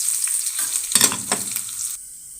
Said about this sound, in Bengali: এখন দেবো পেঁয়াজ আর রসুন কুচি।